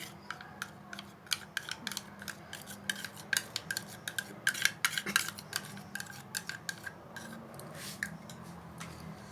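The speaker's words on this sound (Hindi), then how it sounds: "और इसे अच्छी तरह से मिक्स करना है इस तरह से" A spoon repeatedly scrapes and clinks against a deep plate while vermicelli is mixed with butter, a quick irregular run of close, light metallic taps and rubs with no voices.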